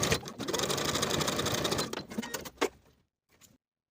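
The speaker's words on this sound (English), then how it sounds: "Using another piece of 1/4 inch elastic, sew it with a zigzag stitch to the seam allowance only." A sewing machine zigzag-stitches quarter-inch elastic onto a seam allowance in one steady run of close mechanical whirring, then stops, followed by a few faint clicks and handling sounds.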